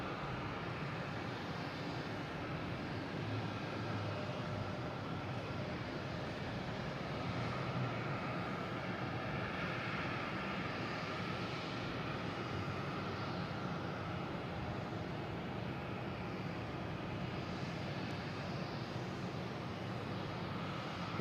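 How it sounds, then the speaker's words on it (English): A Porter airliner lands on runway 22 at Boston Logan International Airport, its engine roar a steady broad rumble heard from a distance that holds evenly for about twenty seconds, with no voices. "we have Porter landing on 22"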